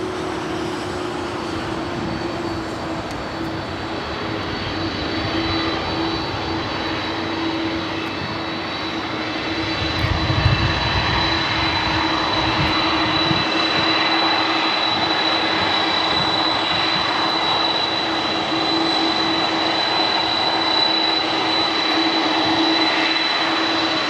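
Airliner engines roar continuously at Los Angeles LAX airport, a loud, steady jet drone with a high whine on top that swells slightly about halfway through and holds.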